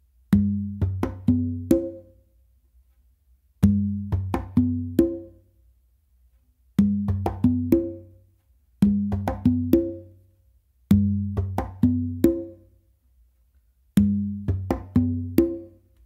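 Bingba conga groove on hand drums, with open tones struck by the dominant hand: six clear repeated phrases of several crisp strokes each, separated by short pauses, close and loud with no talking.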